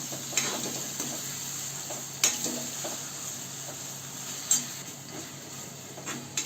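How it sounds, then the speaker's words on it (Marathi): Tomato sautéing in a pan with a quiet, steady sizzle, punctuated by a few sharp spoon taps and scrapes against the pan. "इथे आपला टोमॅटो परतून झालाय."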